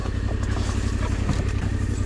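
Small motorcycles arriving at a village, engines idling and puttering close by in a low steady rumble, no talk.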